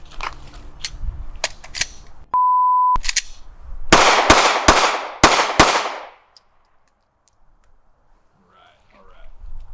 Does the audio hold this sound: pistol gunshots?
yes